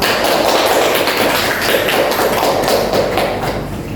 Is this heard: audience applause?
yes